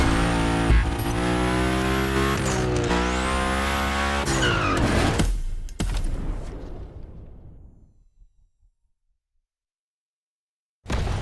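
A car in The Crew Motorfest grinding along a rail at high speed, a loud sustained metallic scraping and engine whine with squealing sweeps, then a sudden cut that decays into silence before another burst at the end.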